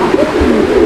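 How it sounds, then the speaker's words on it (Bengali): A koka pigeon coos in a low, continuous, rolling murmur, close and steady throughout with no talking. "আপনারা এতক্ষণ শুনলেন অনেক মিষ্টি সুরে চিকন করে ডাক দেওয়া কোকা কবুতর"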